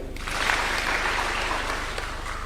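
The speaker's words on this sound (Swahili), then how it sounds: "Mpigeni makofi" Steady crowd applause at an outdoor political rally in Embu, Kenya, a dense wash of clapping that rises quickly and holds at full strength without speech on top.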